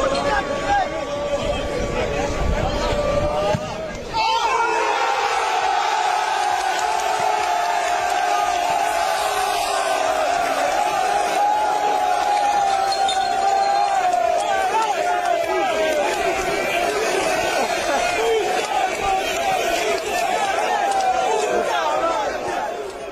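Ajax football fans chanting in Madrid: a loud crowd sings a sustained chant in unison, with shouts and babble underneath and a sharp swell in the chant after the opening seconds.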